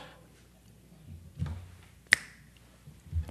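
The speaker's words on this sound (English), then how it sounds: "I felt like snapping my fingers" A single sharp finger snap, close and dry, stands out once amid a quiet room with a few soft bumps and faint murmurs around it.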